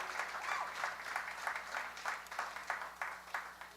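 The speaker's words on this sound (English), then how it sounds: "how about one more round of applause for Jay Clark" A small studio audience at a live radio show claps, a faint, brief patter of applause with an uneven rhythm, heard from some distance.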